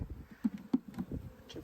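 Honey bees buzz around an opened hive during an inspection, a close, uneven droning hum with a few individual bees swelling louder as they pass the microphone.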